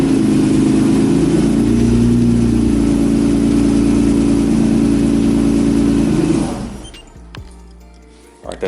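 A car engine idles loudly in a close, enclosed space, a steady low rumble that cuts off near the end as the engine is switched off, leaving near silence.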